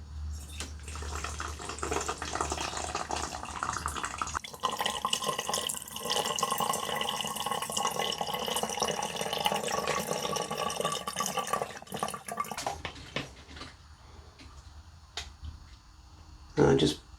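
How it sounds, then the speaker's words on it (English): Malt beer liquid is poured through a funnel, a steady splashing and trickling flow over many seconds that stops near the end, followed by a few brief knocks and drips, with a voice now and then. "I'm just going to pour it in. Use the funnel, keep it easier."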